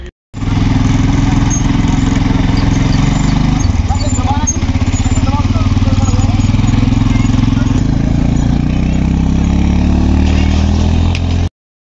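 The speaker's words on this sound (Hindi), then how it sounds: "यहाँ पर ना ये बाइक राइड वगैरह हो रही है जो डेजर्ट में होती है" Motorcycle engine running steadily during desert bike rides near Jaisalmer, a continuous loud rumble that shifts pitch mid-way, close by, with crowd noise and voices mixed in.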